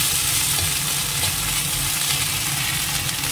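Onion and ginger paste frying in a pan, a steady dense sizzle with faint stirring scrapes, close and continuous with no talking.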